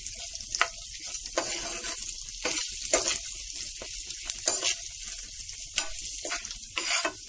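Cashews, almonds and raisins frying in a pan for bread halwa, a crackling sizzle punctuated by quick scraping stirs and occasional sharp pops, close and clear with no speech.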